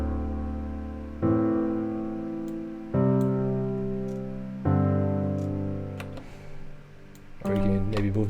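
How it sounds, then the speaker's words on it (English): Future bass synth chords with the fifth added to each, played as sustained stacked chords that change about every one and a half to two seconds, bright and full, with no voices. "So now you have the 5th of each chord, and it sounds like this."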